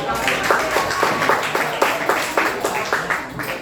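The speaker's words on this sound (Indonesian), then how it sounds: "Beri tepuk tangan." A group claps for a team during a training session, a fairly loud round of hands with a clear, somewhat rhythmic pulse of individual claps throughout.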